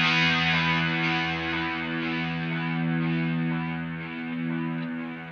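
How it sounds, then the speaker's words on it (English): Electric guitar chord ringing through a Boss SDE-3000EVH delay with distortion, a sustained, buzzy, gradually decaying tone with no talking. "you're gonna hear that distortion coming back, right? You can still hear that annoying buzz"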